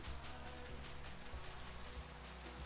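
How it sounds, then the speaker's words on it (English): Rain falls in the Minecraft video game, a soft, even patter on surfaces that continues steadily throughout and is heard alone without any talk. "Uh-oh, it's raining."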